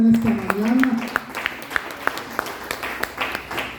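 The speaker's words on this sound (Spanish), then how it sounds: "Denle una ofrenda de palmas al Señor en esta mañana." A church congregation claps in praise, a burst of applause with sharp individual hand claps ringing out under a sustained voice at the start, thinning into scattered claps.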